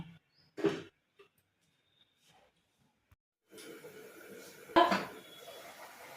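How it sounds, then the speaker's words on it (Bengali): A lid clatters onto a cooking pot of potatoes set to boil, one soft clink followed later by a louder metallic clank, quiet and close amid kitchen stillness. "আলুগুলো সেদ্ধ হওয়ার জন্য এবার আমি ঢাকা দিয়ে দিচ্ছি"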